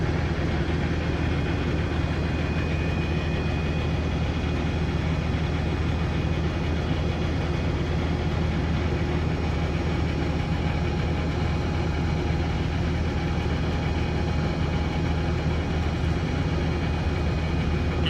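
A CNG-fuelled engine runs steadily while its gas is drained down from the tanks, a continuous low rumbling idle with a constant drone and no change in pace, with no talk.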